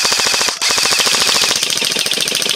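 Rapid automatic gunfire in a video game, loud and close, with evenly spaced bursts of shots that drop out for a moment and then resume for the rest of the clip, without any voices.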